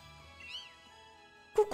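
A cat meows in the video game Pokémon Shield: a short rising-and-falling mew rings out over quiet game music, followed by a brief louder burst of sound near the end.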